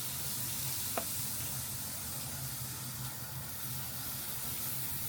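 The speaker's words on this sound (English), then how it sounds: "I want to sear these a little bit. I don't know if y'all can hear that sound." Big oxtails being seared on a smoker, giving a soft, constant hiss of sizzling fat heard from a short distance, with one small tap early on and a man's brief remark.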